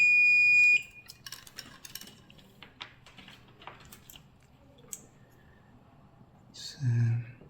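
A multimeter beeps a steady continuity tone while testing turn signal wiring on a car side mirror, opening with one clear held beep, then faint clicks and handling noise, and a short low buzz near the end.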